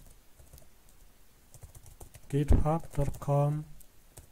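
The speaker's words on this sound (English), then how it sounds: "You can type like this" Faint, rapid keyboard typing in Git Bash while entering a git clone command, with scattered light clicks that continue under a person's speech in the second half.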